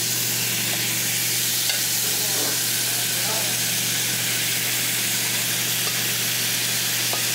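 Rice frying on a hot pan in a Mandarin bistro kitchen gives a steady, loud sizzle and hiss that runs throughout with faint stirring scrapes, while room noise and a low hum sit underneath.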